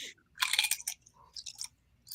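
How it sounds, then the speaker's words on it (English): Crunchy chips being chewed close up, several quick crisp bites and crunches in short bursts, quiet and alone with no talking. "something crunchy. Sounds like chips."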